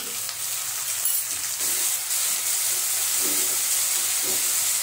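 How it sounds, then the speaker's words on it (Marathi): Two tomatoes sauté in a pan after golden onions, giving a steady, close hiss of frying with occasional stirring scrapes, with no voices. "त्यामध्ये आपण 2 टोमॅटो आपण परतून घेऊ"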